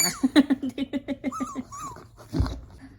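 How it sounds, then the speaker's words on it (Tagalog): A dog close by makes a quick run of rhythmic whimpering pants, then a short grunt. "Bait-bait nitong aso namin."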